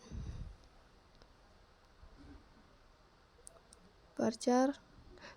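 Sparse keyboard clicks from typing while building a MySQL database table, a few faint taps scattered across a quiet stretch, with a louder burst of clattering activity near the end.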